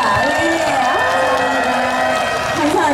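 Outdoor beach concert audience applauding and cheering as a steady wash of clapping, with a sustained tone and voices running over it throughout.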